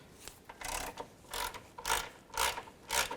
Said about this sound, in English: I'm going to loosen this nut up, take a 10mm socket.